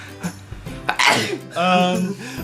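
A single sharp sneeze bursts out close by amid lively conversation, with voices talking before and after it.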